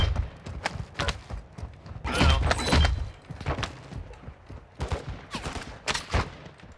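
Video game gunfire: irregular sharp shots and short bursts, loud and close, with a heavier sustained volley partway through and scattered thuds between.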